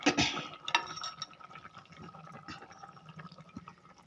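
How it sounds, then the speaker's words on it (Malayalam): Coconut milk is poured into a simmering Kerala-style tuna fish curry, a soft, close liquid splash and trickle that fades into quieter bubbling and faint pan sounds. "ഇനി നമുക്കിതിനകത്തേക്ക് അവസാനമായിട്ട് കുറച്ച് തേങ്ങാപ്പാൽ ചേർക്കാം."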